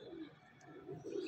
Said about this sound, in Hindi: और ये पड़ेल कबूतर है दोस्तों